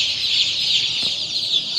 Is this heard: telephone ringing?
no